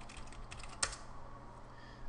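A username and password are typed on a computer keyboard as a few soft, close key clicks, one sharper tap standing out, all fairly quiet.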